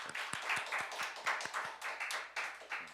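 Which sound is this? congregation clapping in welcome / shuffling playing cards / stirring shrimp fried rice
congregation clapping in welcome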